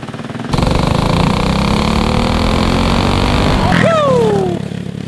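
A modified Predator 212cc small engine with a billet rod, billet flywheel, mod 2 cam and 18-pound valve springs screams at high, steady revs for about three seconds, then the pitch sweeps down as it backs off the throttle.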